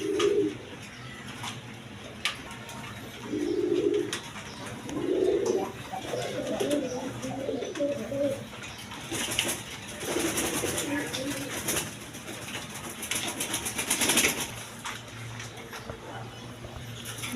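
A male Garra pigeon coos in soft, low repeated phrases at a bird seller's loft, with faint background noise and occasional other birds around.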